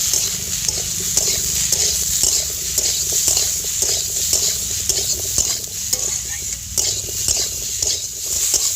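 Spices with turmeric, chili powder and salt fry in hot oil as a spoon stirs them in quick, rhythmic scrapes over a constant close sizzle, loud and steady throughout.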